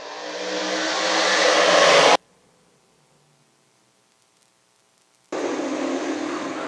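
A field of Dirt Car 358 Modified race cars roars off at the start of a race at Can-Am Speedway, a loud rising engine wash that cuts out abruptly and then returns at full volume.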